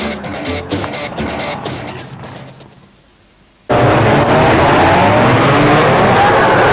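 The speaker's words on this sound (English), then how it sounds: "So the flag goes down the first time. They're underway, these Formula 2s with 24-25 cars on the grid." A field of 24-25 Formula 2 stockcars pulls away at the flag on a speedway at Gendt. A low engine murmur drops away, then an abrupt, loud, sustained roar of many engines bursts in and holds with tire noise.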